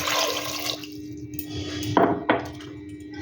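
Water poured into a pressure cooker over washed potatoes, with a continuous pour and two short, sharper splashes near the end, close and moderately loud.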